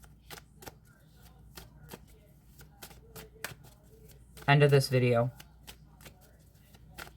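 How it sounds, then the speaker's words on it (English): A deck of tarot cards riffle-shuffled close up in two quick bursts, loud against a quiet room where a voice speaks softly. "as you've seen, I shuffled the deck"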